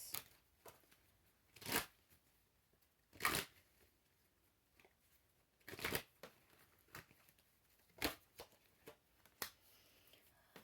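Tarot cards being shuffled in several distinct bursts of crisp riffling and flapping, close and fairly loud, separated by quiet gaps with no talking.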